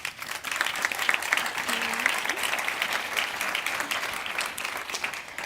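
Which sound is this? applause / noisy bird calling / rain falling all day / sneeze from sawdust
applause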